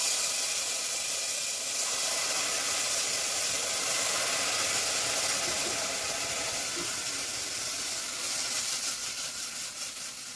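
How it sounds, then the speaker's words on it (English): Red wine sizzling and hissing steadily in a hot pan of onions while deglazing for a vegetarian onion soup, a close, loud, continuous broadband sizzle with no talking. "Now we're going to deglaze, and I have some red wine."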